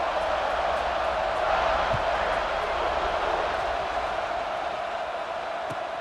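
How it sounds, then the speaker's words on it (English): Stadium crowd cheering in EA Sports College Football 26 as the kickoff unit takes the field: a steady, loud roar of massed voices filling the whole stretch, with no break and only slight swells. "this crowd is feeling themselves after that last drive."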